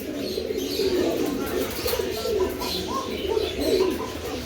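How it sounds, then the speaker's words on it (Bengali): Silver Budapest pigeons, a fresh pair, coo in soft repeated low phrases close by, with faint chirps and rustling in the background. "দেখ ফ্রেশ, একদম একদম ফ্রেশ কবুতর"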